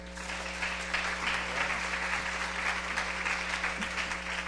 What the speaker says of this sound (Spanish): Por favor, un cálido aplauso.